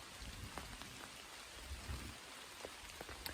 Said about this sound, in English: And just like that, I hear thunder.